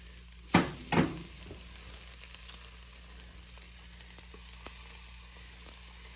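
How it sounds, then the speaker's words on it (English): Onions and celery going into a hot pan with two sharp bursts of sizzle as they land, then a quieter, steady hiss with occasional soft clicks. "Let me put the onions in. Here, get the onions in. Get the celery down."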